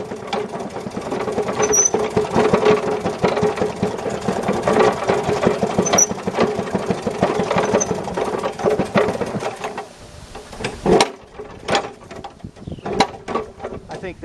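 A Maytag Model 92 gasoline engine on a washing machine chugs with rapid, uneven pops and rattling, close and loud, then stumbles and sputters toward the end as it runs rough.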